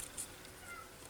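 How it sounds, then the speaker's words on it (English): A cat outside a door gives a soft, faint meow, distant and brief against low room hiss. "cat's trying to get in the door"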